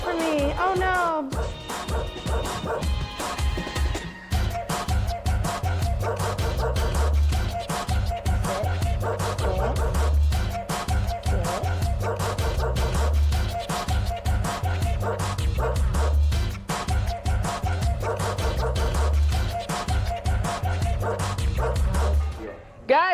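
A dog barks, yips and whimpers during a training session, short yelps scattered over steady, loud music that runs throughout.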